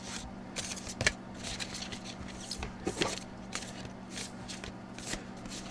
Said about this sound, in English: These are extremely difficult to shuffle.